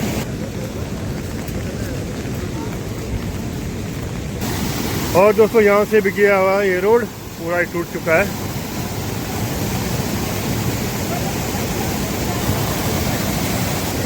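Rain and a swollen, flooded river give a broad, constant rushing roar throughout, loud and steady, while someone talks over it for a few seconds in the middle.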